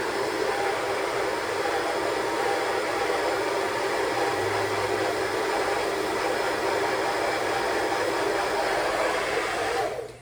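Steady, loud roar of a hair dryer blowing at close range while drying at a home spa party, unchanging for about ten seconds before cutting off abruptly at the very end.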